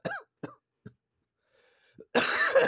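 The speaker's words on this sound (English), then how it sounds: "you start coughing." Three short, dry coughs in quick succession, close by, followed by a pause and then a louder, harsher burst of coughing.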